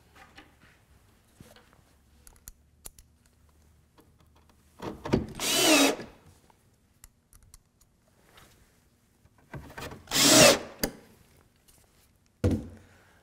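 A power drill drives screws into the back of a wooden fireplace bookcase in two loud bursts of about a second each, separated by quiet handling noises, with a final short burst at the end.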